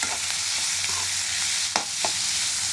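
Onion frying in oil for a home-style chicken masala, a steady close broadband sizzle with a few sharp stirring scrapes near the middle and later, no talking.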